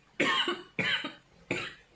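Three separate coughs, close and fairly loud, evenly spaced with short pauses between them, no talking.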